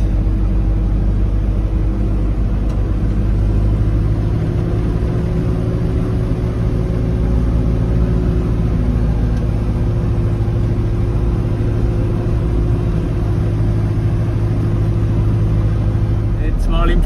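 Camper van engine pulling steadily in fifth gear on a mountain road, a loud continuous low drone with a faint steady whine, close and uninterrupted throughout with no talk.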